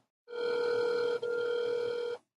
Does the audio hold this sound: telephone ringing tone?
yes